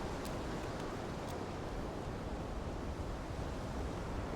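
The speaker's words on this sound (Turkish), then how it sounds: "Kum fırtınası çıktı." Steady broadband roar of sandstorm wind in the battle-royale game PUBG, a constant loud whooshing with no pauses and a few faint high clicks near the start.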